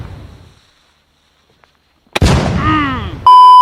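A sharp firework blast cracks out of near silence, followed by loud, sustained sizzling and whistling with a final harsh burst, close and intense.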